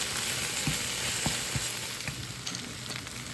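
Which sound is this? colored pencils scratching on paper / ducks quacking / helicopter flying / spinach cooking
spinach cooking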